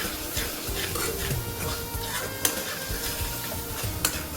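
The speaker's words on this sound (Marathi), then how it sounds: "आता याला छान परतून घेऊ आणि मग याला शिजू देऊ" A vegetable curry seasoned with chili, salt, coriander powder, black masala and mutton masala is sautéed, with continuous loud sizzling and frying close by and rhythmic spoon scraping and stirring against the pan, along with an occasional sharp clink.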